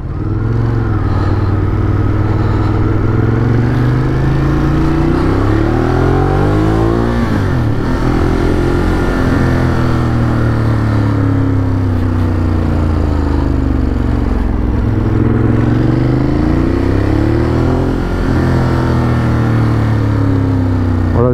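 A motorcycle engine is revved and accelerated hard, with a phone held in a Quad Lock mount; the loud, steady engine drone rises and falls in pitch several times over about twenty seconds, with no talk.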